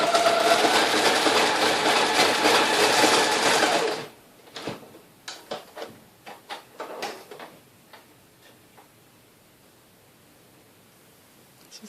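A sewing machine stitches straight seams in a steady, dense mechanical whir for about four seconds, then stops, leaving a few scattered clicks and knocks before quiet.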